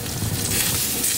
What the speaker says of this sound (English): you can hear the sizzling of the burgers in the background